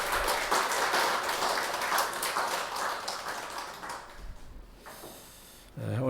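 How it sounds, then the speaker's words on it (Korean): Church congregation applauding during a Sunday worship service: dense, steady clapping fills the first few seconds, then thins and fades out toward the end. "우리 하나님께 감사와 영광의 박수 올려드리겠습니다."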